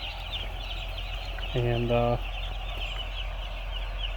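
A newly delivered batch of young chickens in a poultry house chirp and cluck in a steady, dense chorus under a constant ventilation hum. A short voiced sound cuts in briefly over the birds.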